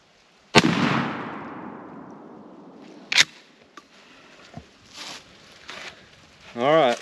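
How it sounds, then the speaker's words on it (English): A Mossberg 500 tactical shotgun fires a turkey load outdoors: one loud sharp blast with a long echoing decay, followed by a few softer knocks and brief speech. "Let's see what this last shot here does."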